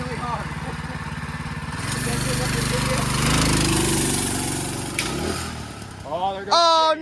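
Engine revving hard and loud as a vehicle pulls a wheelie, a sustained roar building and then falling away, with excited voices and shouting near the end.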